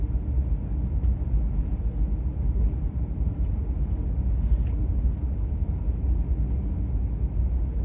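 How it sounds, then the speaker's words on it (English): Steady low rumble of a Class B RV cruising on a road at 42 mph, heard from inside as continuous road and engine noise with faint rattles and no talking. "I'm in a Class B RV. Right now we're going 42 miles an hour."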